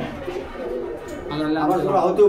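Pigeons coo at a Bangladeshi pigeon market, their low throaty calls mixed with steady crowd murmur and nearby voices haggling throughout.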